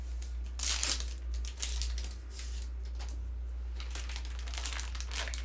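Plastic packaging crinkled and squeezed by hand while trying to open it, close bursts of crackling in two clusters over a constant low hum, no speech.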